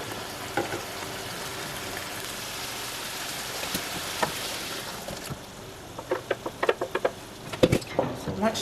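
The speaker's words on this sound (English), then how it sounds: "here I'm just going to pour my tomatoes right in." Crushed tomatoes are poured into a hot, sizzling pan over medium-high heat. A continuous fry fades partway through, followed by a run of close, sharp clatters and clunks.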